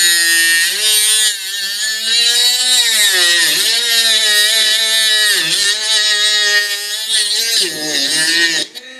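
Worx Chopper mini-cutter cutting white PVC, a loud, close, high-pitched motor whine that rises and dips in pitch as the blade bites into the plastic, then cuts off at the end.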